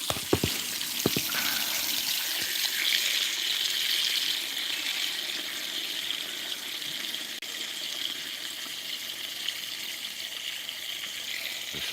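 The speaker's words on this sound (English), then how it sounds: "Fresh water coming, girls." Fresh water runs steadily from a tap or hose on a farm, filling for the animals, with a constant close rushing hiss and a few brief clatters near the start.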